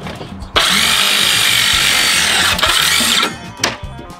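A power saw cuts wood panels for a campervan wall, a loud close buzzing rasp that runs for about three seconds, stops briefly, then bursts again.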